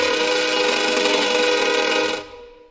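A harsh, buzzing, sustained tone like a violin driven by a spinning drill, dense and grinding, cutting off abruptly near the end.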